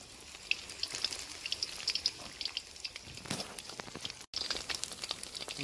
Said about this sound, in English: Look at that, it's frying nicely there.